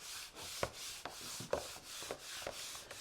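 Fingernails press peel-and-stick wood veneer onto its backing with repeated short, soft rubbing strokes at an even rhythm, quiet and close, with no talking.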